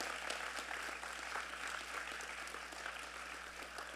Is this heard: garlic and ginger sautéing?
no